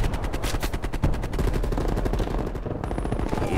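MAC-10 submachine gun firing in Call of Duty: Black Ops Cold War, rapid continuous bursts of close automatic fire with dense, steady rattling through the whole stretch.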